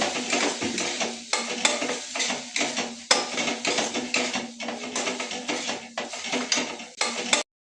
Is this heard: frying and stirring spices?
yes